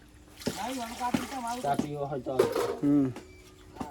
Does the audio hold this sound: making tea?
yes